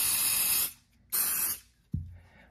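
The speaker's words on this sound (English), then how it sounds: "Then we take kicker, we'll spray the texture pad of the texture that we want to be." Kicker is sprayed onto a texture pad in two short, close hissing bursts separated by a brief pause, followed by a soft knock.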